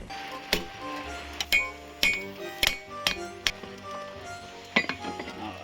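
Steel struck with a hammer on an anvil while forging a warhammer head, a series of sharp ringing metallic blows at an uneven rhythm, loud and close, with short pauses between strikes and no talk.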